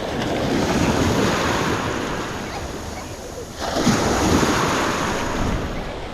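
Ocean waves surge and wash onto a Gulf beach at Pass-A-Grille after Hurricane Idalia, close and loud with wind buffeting the microphone, easing briefly before another wave rushes in.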